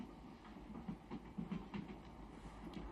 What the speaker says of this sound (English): we are now on a Russian train